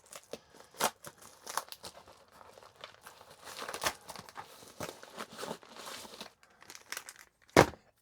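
A black bag handled up close, crinkling and rustling in irregular bursts of soft crackles, with one louder rustle near the end and no talking.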